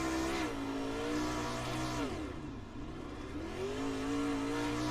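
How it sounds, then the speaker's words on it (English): A race car engine in the iRacing sim game revs hard and continuously, its pitch climbing, dipping sharply around a downshift, then rising again, loud and close with no talk over it. "Terry Landis, listen to the RPMs."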